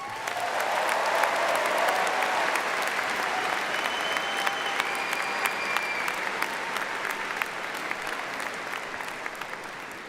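Sustained applause from a large crowd at a college of business commencement ceremony, steady and dense clapping filling the hall for about ten seconds after a student speaker finishes.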